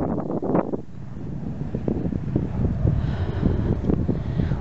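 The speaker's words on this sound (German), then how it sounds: "Der Wind ist auch nicht so geil für die Kleinen." Wind blows across a dry field of young vegetable plants, buffeting the microphone with loud, continuous low rumbling and gusts.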